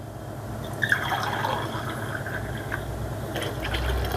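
Water poured from a glass into a pot of rice for jeera rice, a soft close trickle and splashing running steadily, faint beside quiet kitchen background.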